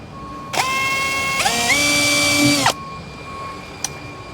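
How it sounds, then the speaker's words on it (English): A power drill with a 3 mm bit whines loudly for about two seconds while drilling into a Toyota Prado 150 rear door, its pitch shifting as it bites in, then stops abruptly. "we got our 3mm drill, and just carefully drill a hole right in the middle"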